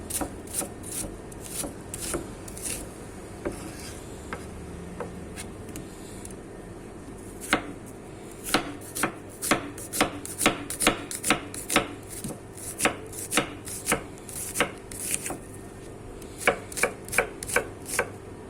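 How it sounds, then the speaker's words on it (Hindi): Onions chopped with a knife on a board while cooking a potato and bell pepper curry: a few scattered knife strikes at first, then a quick, steady run of close, crisp chops. "अभी काटते हैं प्याज"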